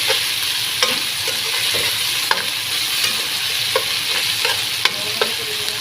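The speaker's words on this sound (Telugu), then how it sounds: "ఇప్పుడైతే అల్లం తెల్లగడ్డ పేస్ట్ అయితే వేసుకోవాలి ఇదిగా పచ్చాసన వేయనంత వరకు అయితే ఎంపుకోవాలి" Onions frying in oil with ginger-garlic paste added, giving a continuous bright sizzle with regular clinks and scrapes of a ladle against the pan, close up and without speech.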